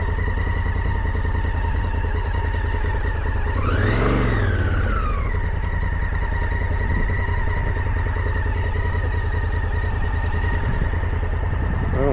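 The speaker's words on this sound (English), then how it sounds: "got a little rock water crossing here" A motorcycle ridden through a rocky water crossing in a Colorado canyon gives a steady engine drone with a brief rev swell midway, under constant wind rumble and no talk.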